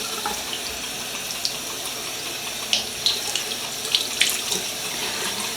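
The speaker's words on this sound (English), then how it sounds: "So I'm letting the water warm up and I'm wetting my towel." Tap water runs steadily into a sink as it warms up and a towel is wetted under it, with a few soft splashes and handling sounds close by.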